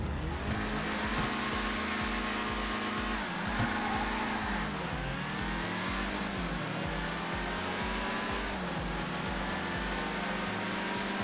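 A Pegassi Torero supercar in GTA 5 revs hard through repeated gear shifts, its engine note climbing and dropping in steady cycles, loud and close with no talking.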